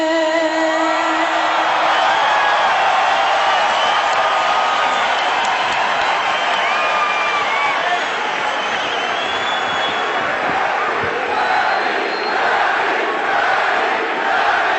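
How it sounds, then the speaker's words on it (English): A large boxing arena crowd at a Manny Pacquiao versus David Diaz fight chants loudly and continuously, a roaring wall of voices with rising whoops and cheers. "Oh, the crowd whipping up the chants of Manny, Manny, Manny."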